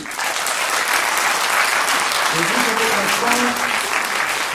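Warm, sustained applause from an audience at a cultural centre performance, steady dense clapping close up, with a few voices rising faintly through it.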